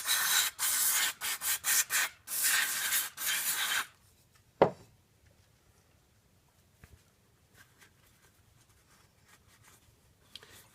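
Brembo brake pads from a Triumph Speed Triple R being cleaned by rubbing, a series of loud close scraping strokes in bursts for about four seconds, followed by a single knock and near quiet.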